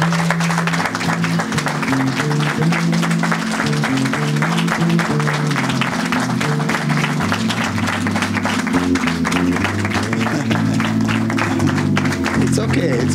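Church congregation giving a sustained round of applause, steady dense clapping that fills the whole stretch, with organ or keyboard chords sounding beneath it.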